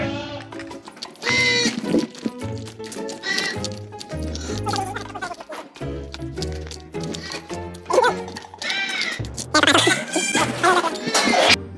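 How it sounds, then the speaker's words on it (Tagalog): Several goats of different breeds bleat on a farm in overlapping, wavering cries, loud and close, with people talking and other animal noises mixed in. "Eto guys, yung mga iba't ibang klase na kambing."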